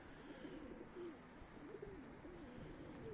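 Pigeons coo softly in repeated low, warbling calls over faint outdoor background noise.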